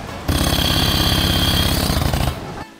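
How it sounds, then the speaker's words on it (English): Small compressor of a Blu3 Nemo floating diving device running, a loud close rapid pulsing rattle that starts abruptly, holds steady for about two seconds, then winds down. "And this is a small compressor."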